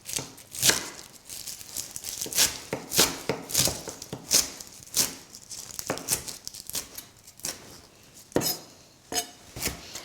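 A knife chops parsley on a cutting board in quick irregular bursts of crisp taps, close and fairly quiet, with no talking.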